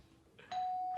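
A doorbell rings in a film, a clear two-tone chime that starts faintly and then sounds loud and sustained, with no talk.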